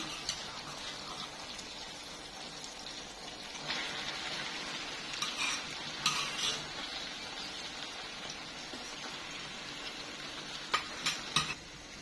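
Green chili sambal cooking in a pan with half-cooked tomatoes, a steady close sizzle and crackle with occasional stirring scrapes that grow a little louder near the end.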